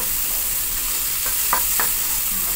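Garlic sautés in a pan with a steady, close sizzling hiss, broken by a couple of brief stirring scrapes, with no talking.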